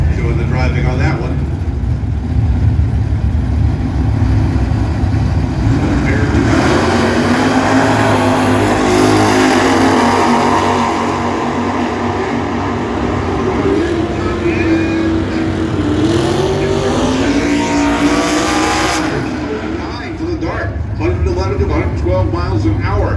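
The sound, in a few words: drag racing cars, Dodge Dart and Rambler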